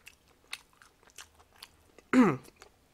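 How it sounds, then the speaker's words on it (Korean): Someone eats bossam and jokbal (boiled pork and braised pig's trotters), with close, quiet chewing and lip-smacking in soft irregular bursts and one louder, longer wet smack near the end, no talk. "마이크가 너무 커가지고 쩝쩝 소리가 들려요."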